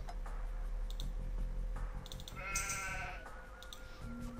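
Sheep bleating once in the Age of Empires 2 video game, a short wavering cry set among soft in-game ticks and clicks under quiet background ambience.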